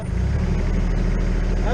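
A small engine revs up under added throttle near a farm fence line, giving a loud, steady, low drone that fills the short moment with little change.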